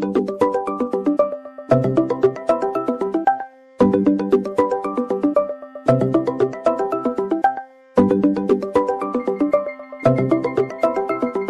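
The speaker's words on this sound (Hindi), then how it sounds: "किसी नावेद का फोन आ रहा है।" A phone ringtone repeats in loud melodic bursts, each about two seconds long with brief gaps between them, ringing for an incoming call indoors with no one speaking over it.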